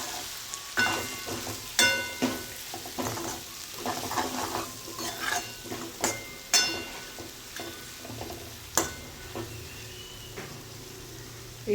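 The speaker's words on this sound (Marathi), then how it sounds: "आता पुन्हा हे परतून घ्यायचं आहे." Spiced dal mixture with pav bhaji masala sautéed in a pan: steady sizzling and frying with repeated sharp scrapes and clinks of a spoon stirring against the metal, close and alone.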